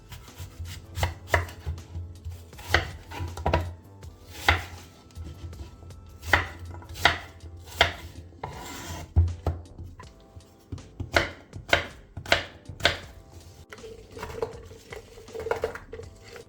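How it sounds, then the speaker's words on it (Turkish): Close knife chopping apples into cubes on a cutting board, a run of sharp irregular thuds with short pauses between bursts. "Elmaları küp küp doğruyoruz ve bir tencereye koyuyoruz."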